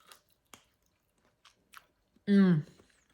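Cooked shrimp from a sausage jambalaya is chewed close to the mic in a few soft, spaced clicks and bites. A short vocal sound follows near the end.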